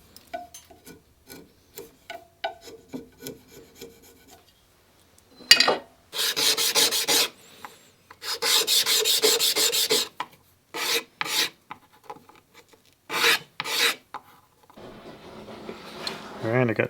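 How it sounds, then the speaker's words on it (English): Wood is filed away from bandsaw blade guides, with bursts of rough rasping strokes separated by pauses, close and fairly loud, after scattered small tapping and handling sounds. "I'll just break those off and clean up the excess wood."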